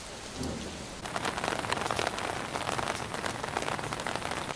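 Heavy steady rain pours down with a low rumble of thunder beneath it, a constant dense hiss after a brief softer start.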